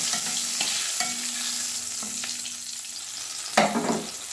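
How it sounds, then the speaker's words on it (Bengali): Bay leaf, panch phoron and dried red chilli fry in hot mustard oil in a kadai with a steady sizzle. A utensil stirs with several scraping strokes, and a louder clatter comes near the end. "তেজপাতা, পাঁচফোড়ন আর শুকনো লঙ্কা দিয়ে ফোড়নটা আমি ভেজে নেব"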